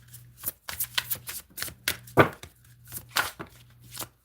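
A deck of tarot cards is shuffled close up in a quiet room, giving a series of quick riffling bursts and soft slaps in an irregular rhythm, each flurry brief and crisp with small gaps between.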